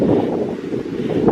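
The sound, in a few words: wind blowing on a hiking trail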